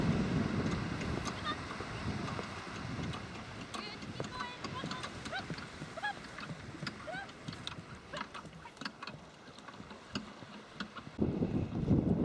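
Strong wind outdoors in Scotland, gusting and buffeting against the microphone in uneven rumbles, with a person talking through much of it.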